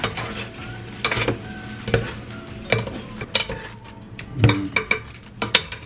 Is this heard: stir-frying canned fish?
yes